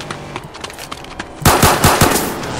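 Video game gunfire: a few light scattered pops lead into a loud, close burst of rapid automatic fire lasting about a second, with a steady rattling rhythm.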